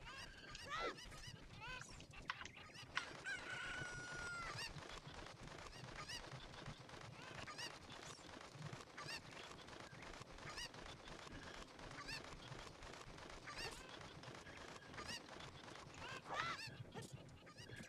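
Cuccos clucking and squawking in the Zelda game Ocarina of Time, a dense run of goose-like honks and cackles from several birds that goes on steadily throughout, loud and busy, with no talking over it.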